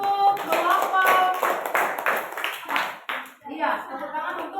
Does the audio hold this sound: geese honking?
no